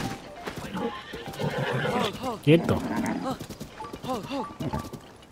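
A giant horse in Zelda: Tears of the Kingdom whinnies in repeated wavering neighs, with a sharp snort midway and clip-clopping hooves underneath, while someone talks over it throughout.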